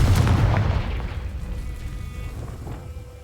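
A Confringo spell blast from Hogwarts Legacy hits with a loud, close boom at the start. A rumbling, crackling tail follows and slowly fades.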